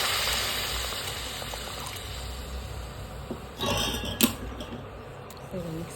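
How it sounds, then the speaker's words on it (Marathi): Hot water pours steadily into a pot of egg curry, a soft continuous splashing with a few brief clinks and bumps toward the end. "याच्यामध्ये आता आपण गरम पाणी ओतूया"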